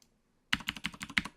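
About eight quick keystrokes on a computer keyboard are typed in a fast, even burst after a half-second of silence, crisp and close.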